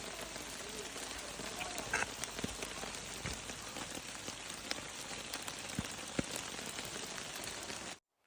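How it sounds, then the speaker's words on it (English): Steady rain falls on the Appalachian Trail in North Carolina, a dense, even patter on leaves and ground lasting throughout, with occasional louder drips. "Apparently there's been so much rain there that even the trees are taking a leak."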